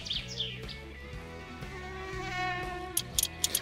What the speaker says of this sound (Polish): Ależ ta mucha irytuje, czy to jakieś osa, czy coś